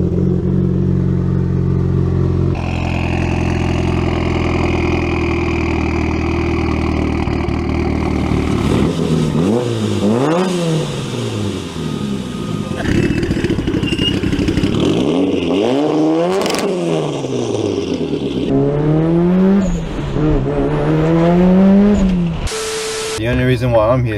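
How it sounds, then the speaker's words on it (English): Aftermarket exhaust on a Mitsubishi Evo revving, loud and close, with repeated rising and falling sweeps of engine pitch, sharp blips and a steady idle between revs. "Best sounding exhaust for Evo."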